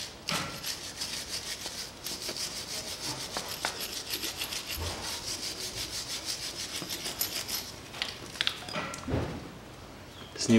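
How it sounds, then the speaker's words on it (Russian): A rear brake caliper on a 2005 Peugeot 407 1.8 is scrubbed clean with quick, faint rubbing and scraping strokes that repeat in an irregular rhythm, close by and fairly quiet. "Чистим вот эту скобу, мажем направляющие."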